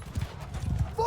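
Cavalry horses gallop in Bannerlord, a medieval battle game, with a steady low clip-clop of many hooves close by under shouted commands. A horse whinnies briefly at the end.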